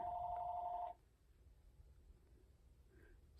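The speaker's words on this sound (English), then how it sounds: "excuse the phone, I'm sorry." A telephone rings indoors in a home craft space, one short warbling ring burst that stops abruptly just under a second in, then quiet room tone with a faint click near the end.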